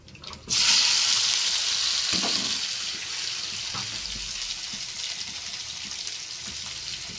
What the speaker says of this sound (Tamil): ரெண்டு வெங்காயம் 2 தக்காளி நல்லா வதக்கிக்கணும்